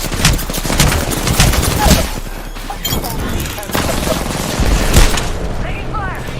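Rapid video-game gunfire crackles in dense bursts with booms and shattering impacts, loud and close, while voices speak over the action.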